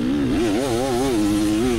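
A 300 two-stroke dirt bike engine revs loud and close, its buzzing note wavering up and down in quick throttle blips without pause.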